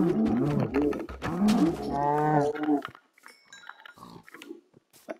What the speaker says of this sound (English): That is a pig.